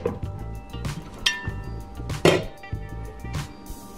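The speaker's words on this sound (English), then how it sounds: "And you put the lid. This is a lid for the pressure cooker." A lid is set onto a COSORI pressure cooker, giving a few close clinks and clunks, with the sharpest knock near the middle, in a quiet kitchen.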